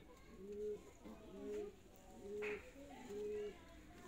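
Sialkoti high flyer pigeons cooing in a steady, repeated pattern of four soft, rounded coos, fairly close against a quiet background.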